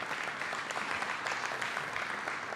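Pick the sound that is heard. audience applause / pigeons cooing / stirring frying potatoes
audience applause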